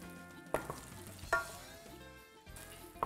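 Onions softening in a frying pan on a morning TV cooking show: a low, steady sizzle broken by three sharp clanks or scrapes of a utensil against the pan, with no talking.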